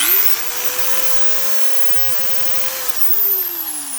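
A Hitachi VH1 3/8-inch utility drill runs steadily with a smooth, fairly quiet motor whine that rises as it starts and sags as it winds down, heard alone and close.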